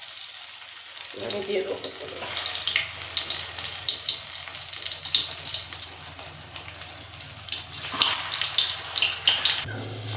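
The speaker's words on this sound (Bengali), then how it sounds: "দেখুন পটলগুলো আমি পুরো ডিপ ফ্রাই করে নিয়েছি" Pointed gourd (potol) deep frying in hot oil in a pan, a steady loud sizzle and crackle that starts abruptly and keeps bubbling, with a brief voice speaking over it.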